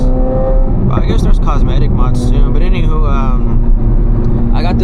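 A Corvette C8 Z06 with the Z07 package cruising on an early morning drive, its engine a steady low drone beneath continuous talking inside the cabin.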